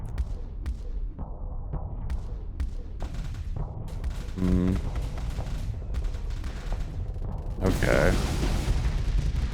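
Ship weapons in the space game Starsector firing a scattered series of thumping shots and bursts, with a louder rush of fire near the end, while a person talks briefly over it.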